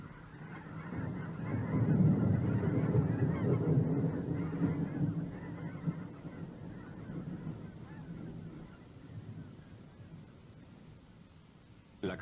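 A flock of snow geese honks steadily, the massed calls loudest early and fading gradually, with no talk over them.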